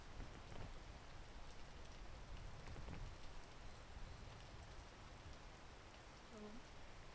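Rain falls in a video game as a steady, faint hiss of drops pattering on surfaces, unbroken throughout with no other clear sounds.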